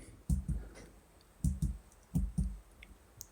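Keys pressed on a homemade MicroBeast computer keyboard, giving soft close clicks in small pairs and clusters separated by short pauses, with no talking.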